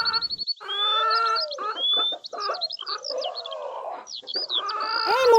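A cartoon chicken clucks and squawks in quick, shrill bursts with rising warbling calls, loud and near, a busy run of fowl noises with no speech.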